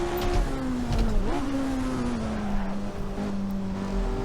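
A race car engine in Assetto Corsa, a 1967 Silverstone Grand Prix car with a manual gearbox, drones steadily and loud on its own, its pitch dipping briefly and then sagging after a missed shift before holding an even hum.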